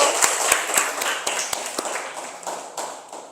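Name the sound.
audience applause for group 1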